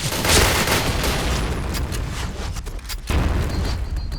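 Grenade blast in the Point Blank shooter game, a loud booming explosion at the start followed by a rumbling wash of sound and a second sharp burst a few seconds later.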